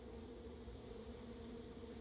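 Bees buzz steadily and faintly in the Barnyard video game, a continuous low droning hum with no talking over it.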